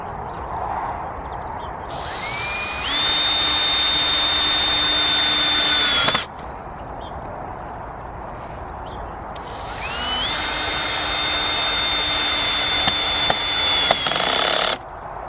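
A power drill drives screws to assemble a wooden crop frame on top of a garden raised bed, in two loud bursts of several seconds each with a rising whine, separated by a quieter pause.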